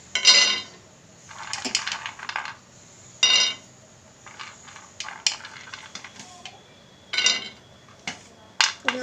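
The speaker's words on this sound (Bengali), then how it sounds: "ফ্রাইং প্যানটা বসিয়ে দিয়েছি, এখন এর মধ্যে আমি প্রথমে কাঠবাদামগুলো দিয়ে দেবো" Almonds are dropped into a frying pan in several separate bright clattering bursts, with hard little clicks and rattles against the metal and quiet gaps between pours; no one speaks.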